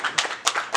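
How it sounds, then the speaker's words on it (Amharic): A few quick, sharp hand claps from an audience, loud and close, in a brief uneven burst with no other sound. "ጭብጨባ።"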